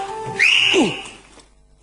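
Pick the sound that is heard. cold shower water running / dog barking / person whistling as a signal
person whistling as a signal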